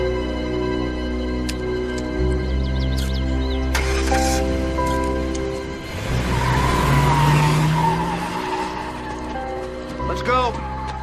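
A car skids in a 2006 TV mystery film scene, with a loud tire squeal rising midway over a low engine rumble, and voices are heard around it.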